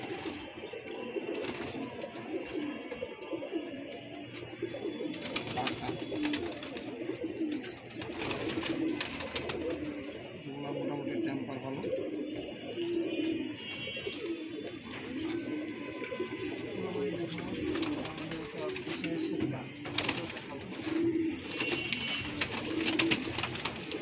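Pigeons in a new loft coo steadily at close range in soft, overlapping murmurs, with wingbeats and shuffling throughout, while someone speaks briefly over them.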